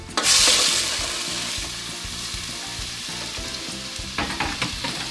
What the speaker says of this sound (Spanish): Voy a freír el chile acá en esta cacerola que tengo